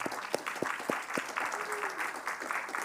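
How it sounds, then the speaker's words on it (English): An audience at a speaker series lecture applauds in a short, moderately loud stretch of clapping, with a few sharp individual claps standing out and a faint voice underneath. "Can we have a round of applause for all the work they've done?"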